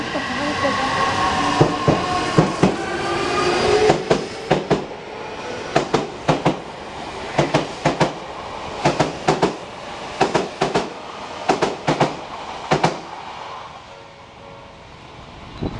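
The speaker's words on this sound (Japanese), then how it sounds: "今からなんか急行だから通過します" A rapid express train runs through a Japanese station, a rhythmic series of loud wheel clacks and rumble passing close by, with voices talking over the start.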